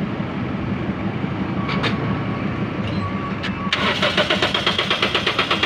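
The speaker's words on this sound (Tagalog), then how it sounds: "So irekta muna natin itong starter nya mga boss kasi walang lumalabas na kuryente." A Toyota engine with an automatic transmission cranks with its starter wired directly, a loud, close, rhythmic chugging of the starter turning the engine over for a couple of seconds following a steady background drone.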